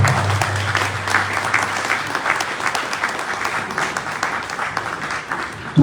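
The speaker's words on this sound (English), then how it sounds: "Let's give her a hand of applause." An audience at a medical excellence awards ceremony in Liberia claps steadily for about six seconds, a dense, even applause from a sizable crowd.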